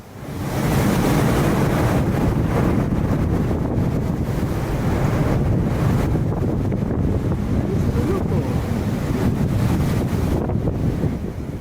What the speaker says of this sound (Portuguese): a câmera conseguiu registrar perfeitamente a força do vento, mesmo a uma distância tão grande do tornado